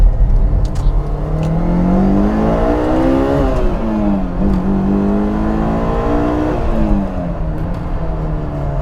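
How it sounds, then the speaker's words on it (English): A 2003 Honda S2000 AP1 engine revs hard while driving, its loud droning note climbing and dipping through several gear changes, steady and close throughout with no talk over it. "engine makes such a large racket that I can't really detect any like wind noise or anything like that"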